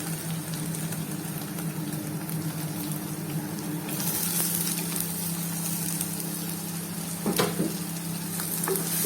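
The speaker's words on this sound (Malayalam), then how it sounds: "നന്നായി ഇളക്കുക ഇളക്കി വഴറ്റി വരട്ടെ കേട്ടോ ഉള്ളി പെട്ടെന്ന് വഴന്ന് വരാം" Chopped onions sauté in a pan for a Kerala-style crab roast, giving a steady close sizzle with intermittent scraping as they are stirred, and a louder crackle midway.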